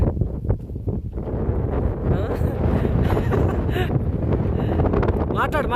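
Strong wind buffets the microphone at a seaside village beach at Srikurmam, a loud, constant roaring gust with a muffled voice partly buried beneath it.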